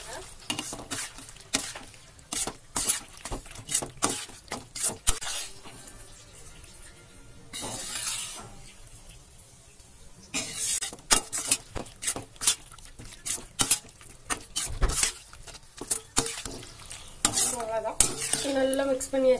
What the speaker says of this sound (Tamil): வேக வச்சிருக்க மேக்ரோனி சேர்த்துட்டு ஒரு வாட்டி நல்லா மிக்ஸ் பண்ணி விட்டுருங்க.